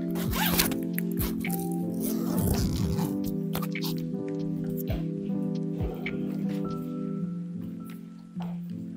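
A travel bag being unzipped, the zipper rasping steadily and close up for several seconds with small pauses and tugs, over a low steady hum.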